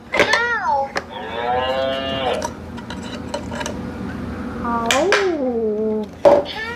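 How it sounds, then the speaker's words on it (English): A toddler learning tablet toy plays a recorded cow moo, several drawn-out harmonic lows repeated close up, with a few clicks and button taps between them. "Cow."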